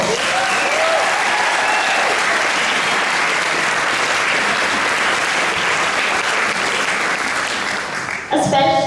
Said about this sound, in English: Please join me in giving Frances a round of applause